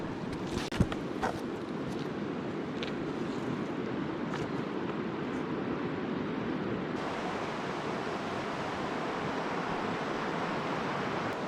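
Braided river water rushes steadily over an unstable riverbed in New Zealand, a dense, continuous broadband wash close to the microphone with slight wind buffeting and no voices.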